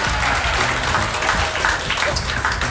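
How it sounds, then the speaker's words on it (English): Comedy club audience laughing and clapping together at a stand-up show, a steady, dense wash of applause and laughter that holds at full strength throughout without letting up. "they're laughing and clapping along"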